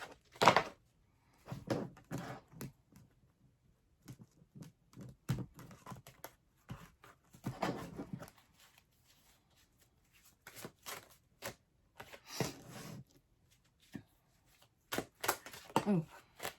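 Quick riffling bursts of tarot cards being shuffled, repeated several times with short quiet pauses between each burst.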